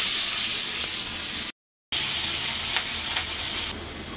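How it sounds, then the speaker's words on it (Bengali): Kebabs sizzle and crackle steadily in a hot frying pan at close range, with a short silent break and then more frying. "তো এখন কাবাবগুলো ভাজবে"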